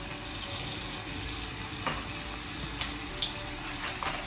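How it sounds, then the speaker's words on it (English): Onion sizzles steadily in a hot pan after the heat is turned down, a continuous frying hiss with a few faint clicks and small pops scattered throughout. "Now we're going to turn down the heat, and we're going to put in onion."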